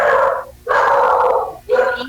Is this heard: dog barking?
yes